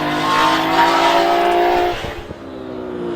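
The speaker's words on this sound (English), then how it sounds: "Paul Crook now into and out of Orchard in the OMS 28. This runs a Jaguar V6 engine." An OMS 28 hillclimb race car powered by a Jaguar V6 engine screams past at high revs. The loud, steady engine note fades away in the last second.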